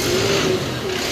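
A sleeper bus on a Mumbai-to-Konkan run pulling away, its engine droning steadily and close with a low rumble and a faint tonal whine, holding even loudness throughout with no talk.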